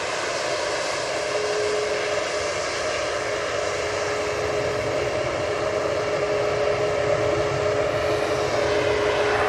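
A TUI airliner takes off at Manchester Airport with a steady, loud jet engine roar and a constant tonal whine held throughout, alone with no talking.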